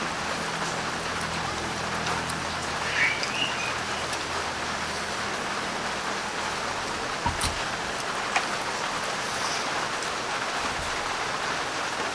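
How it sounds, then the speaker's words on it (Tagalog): Steady rain patters and drips on surfaces outdoors in a dense, even hiss, with a few louder single drops and a faint bird call in the background. "Ayan, tumutulo na naman ang ulan."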